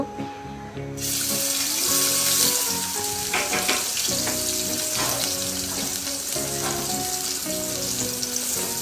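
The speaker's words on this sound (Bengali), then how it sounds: "প্রথমে আমি কড়াইতে তেল দিচ্ছি এরপরে পেঁয়াজ কুচিগুলো দিয়ে দিব" Chopped onions hit hot oil in a kadai wok, and a loud, steady sizzle bursts in after a second of quiet and keeps crackling over soft background music.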